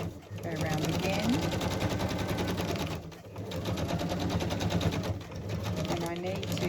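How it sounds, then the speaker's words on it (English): A sewing machine runs in rapid, loud, close stitching bursts across fabric for an embellishment cluster, with two brief pauses between the runs. "I'm stitching across the image to capture that."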